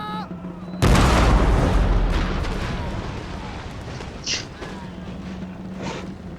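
A massed volley of musket and cannon fire as troops open fire on the Spanish army in Total War, a loud booming burst that rolls and decays over several seconds, with a voice heard briefly.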